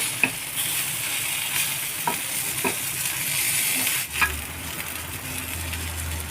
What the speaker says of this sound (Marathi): आता ही सुद्धा मच्छी फ्राय झालेली आहे आता हिला मी काढून घेते प्लेटमध्ये